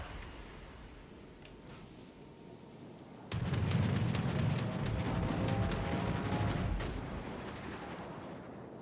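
Airstrike explosions and gunfire in a video game, a low rumbling barrage that erupts suddenly and rolls on loudly for several seconds with crackling shots, then fades, following quieter background ambience.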